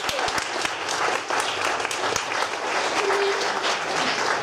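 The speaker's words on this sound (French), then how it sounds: "on peut applaudir Kimi, notre grande finaliste." A comedy show audience applauds a finalist, with dense, sustained clapping from a crowd filling the room and a few sharper claps standing out near the microphone.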